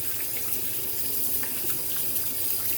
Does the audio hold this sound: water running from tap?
yes